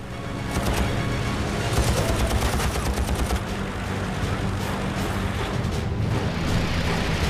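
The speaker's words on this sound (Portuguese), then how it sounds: "Alguns tiros certeiros convenceram o alemão a fugir." Rapid bursts of machine gun fire rattle continuously over a loud, roaring background, dense and sustained throughout.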